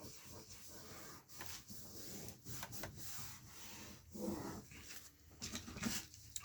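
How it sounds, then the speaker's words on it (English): Craft paper is burnished down around a magnet on a Valentine's card project, giving quiet, uneven rubbing and scraping strokes close up, repeating in short bursts. "And then we will burnish that down nicely,"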